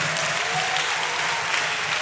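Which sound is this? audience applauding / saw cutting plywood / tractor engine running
audience applauding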